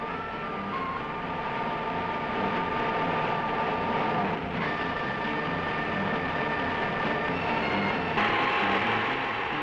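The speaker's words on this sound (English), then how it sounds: "Hey, Jack, there's the press plane." A press plane flies overhead during the 1965 around-Australia race with a Morris 1100S, a steady broad engine drone that holds at even loudness throughout with a faint tonal whine on top.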